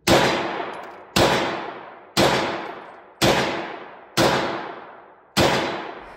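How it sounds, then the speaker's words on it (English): Six sharp, loud shots from a subcompact pistol fire at a steady pace about one second apart, each a hard crack followed by a decaying ring. "with these I can feel the slide slam home after the shot"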